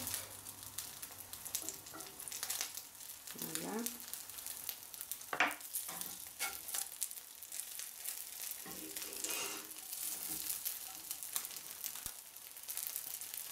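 Vegan mochi croutons fry in a pan with a steady, close sizzle, broken by brief scraping and clattering as they are stirred and shifted.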